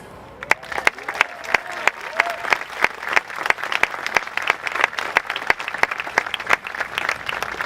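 Graduation ceremony audience applauds with steady, dense clapping, several sharp claps standing out near the front over a broad wash of hands from a large crowd.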